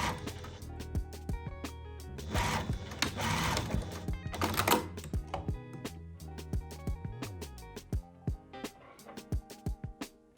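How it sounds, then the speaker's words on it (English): A sewing machine edge stitches the waistband of a bias-cut skirt, its needle running in fast continuous bursts with short pauses, then slowing into separate stitches near the end, close and clear with no talk. "Next, we will edge stitch the waistband."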